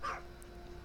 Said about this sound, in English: this is the part where my dogs start barking